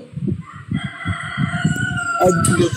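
A rooster crows close by in a long drawn-out call, heard over continuous low talking, in a setting where a chicken is about to be slaughtered.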